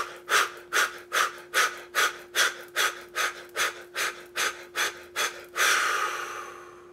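Deep, forceful breaths in a steady rhythm make up a breathing exercise, about twelve evenly spaced close bursts of air followed by one longer sustained exhale, with a faint constant tone humming underneath.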